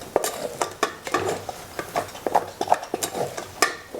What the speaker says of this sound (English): we're just gonna give that a nice mix